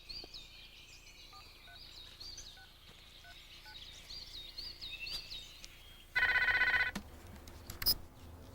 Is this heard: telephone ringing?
yes